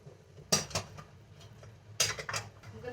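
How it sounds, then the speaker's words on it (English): A metal lid comes off a pot of boiling pork and the meat is flipped: two sharp clanks about a second and a half apart, each followed by brief scraping and clatter over a quiet simmering background. "I'm just gonna open this pork lid and see if, because it's boiling, so I'm just gonna open and flip the meat a bit"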